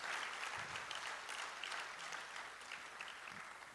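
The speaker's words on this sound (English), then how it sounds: "Please, another round of applause for my rector." Applause at the annual general and scientific meeting of the Ghana College of Physicians and Surgeons, a steady roomful of clapping for the rector, dense and continuous throughout, at moderate level with no voices over it.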